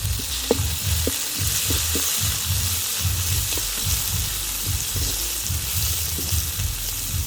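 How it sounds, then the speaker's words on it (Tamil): Onions and chillies sizzle steadily in a pan on a village kitchen fire, a continuous bright hiss with occasional soft knocks and stirring scrapes, close and with no talking. "இவ்வளோ வெங்காயம் நல்லா வதங்கிடுது"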